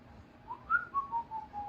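Someone whistles a short, gliding melody of a few sustained notes while polishing an accordion, soft and close, over faint background noise.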